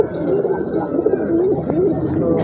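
A pigeon coos in a steady, rolling murmur, close and clear, with faint background noise at a pigeon farm.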